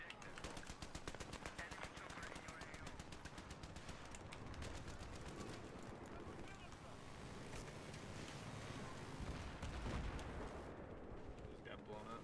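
Battlefield 3 firefight with rapid machine-gun bursts and heavy explosions rolling on continuously, loud and close, with wind noise in the background.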